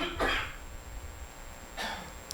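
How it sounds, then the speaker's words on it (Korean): A man coughs and clears his throat during a church sermon, with two rough bursts, one at the start and one near the end, separated by a quiet pause. "그래 기침이 계속 나옵니다."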